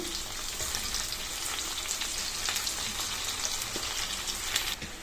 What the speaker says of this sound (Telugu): ఇప్పుడు మనం సన్నగా కట్ చేసి పెట్టుకున్న వంకాయ ముక్కలు కూడా వేసుకుందాము.